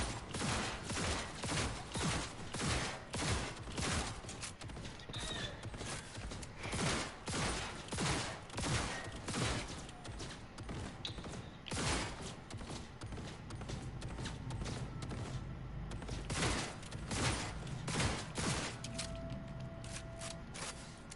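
Turrets fire in Cyberpunk 2077, a long run of rapid, regularly pulsing mechanical bursts, loud and sustained, with scattered clanks and impacts and no talking.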